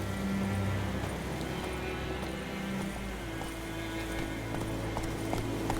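Trotting horse hooves in the video game The Witcher 3 on PC, a steady rhythmic clip-clop over continuous game ambience, moderately loud and unbroken for several seconds.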